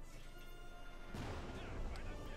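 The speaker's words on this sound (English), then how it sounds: "White phosphorus mortar rounds going down there" White phosphorus mortar rounds in Company of Heroes 2 land with a heavy crashing burst midway, then a rumbling roar of impacts, over continuous battle noise and voice chatter.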